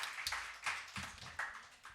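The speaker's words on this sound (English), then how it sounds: "A huge round of applause for this powerful house of talent" Audience applause at a literature festival in Bhopal, a short burst of clapping from a crowd rising and falling in waves, fairly close and without speech.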